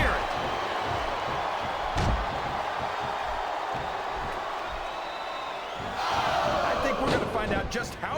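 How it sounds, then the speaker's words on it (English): An arena crowd roars continuously in the WWE SmackDown vs. Raw 2007 wrestling video game, with a sharp impact near two seconds and a louder swell of cheering toward the end, under game commentary. "This capacity crowd is making their opinions known tonight."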